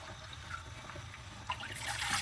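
Water poured from a measuring cup into a saucepan while making savoury rice cakes, a soft steady trickle close by that swells briefly toward the end.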